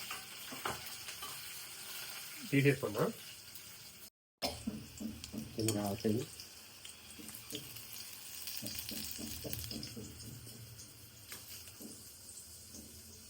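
Food frying in oil in a pan while tomato chutney is made: a continuous sizzle with stirring and clattering of utensils, and people talk over it.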